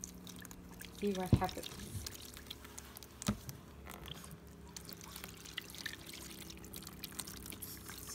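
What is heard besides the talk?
water poured onto Kaleidofoam and powder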